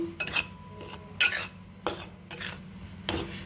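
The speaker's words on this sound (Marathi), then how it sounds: "आपण त्याच्यामध्ये एक चमचा मोठा तूप टाकून चांगलं व्यवस्थित आता हे करून घेऊ आणखी भाजून घेऊ" A spoon scrapes and knocks against a pan as wheat flour and semolina roast in ghee for sheera, in four or five separate close strokes over a faint sizzle, with no one talking.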